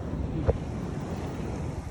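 Sea waves and wind on a rainy day make a constant broadband roar of surf and gusting air, loud and unbroken. A single brief knock is heard near the start.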